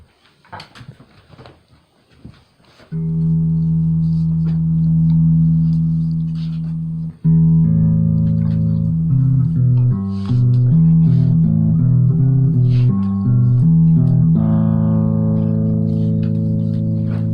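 An electric guitar is boosted through a UM300 effects pedal, giving mild distortion. Sustained chords ring out loud and close, then a busier passage of changing notes follows with a brief break between them.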